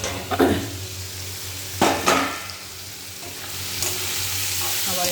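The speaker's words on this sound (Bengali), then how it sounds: "একটু নাড়া দিয়ে নিলাম" A spoon scrapes and clanks against a cooking pan as food is turned over, with a few distinct knocks over a continuous low sizzle.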